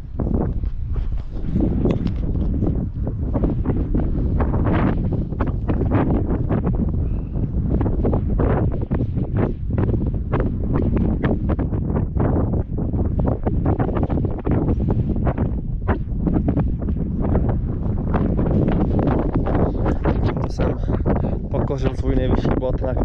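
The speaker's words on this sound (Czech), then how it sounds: "Je zima jak prase, fouká tady" Strong, cold wind at about 1790 metres in the Alps buffets the microphone in rough, continuous gusts, a loud blustery roar with a person talking over it.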